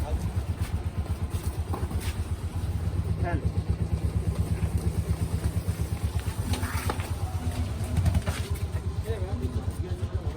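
A Bajaj Avenger motorcycle on a rough off-road trail chugs with a steady, pulsing engine beat from close by, running continuously while people talk over it.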